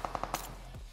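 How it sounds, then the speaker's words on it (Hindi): Rapid gunfire in PUBG Mobile on the Erangel map, four quick shots in a short burst, moderately loud over a steady game ambience. "सामने से मेरे को फायरिंग की साउंड आई थी"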